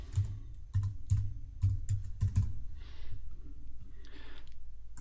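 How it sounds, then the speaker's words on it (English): Computer keyboard keys tapped in a quick irregular run of clicks, close up and fairly soft, followed by quiet breathing sounds at the end. "I'll type in Lady Bower"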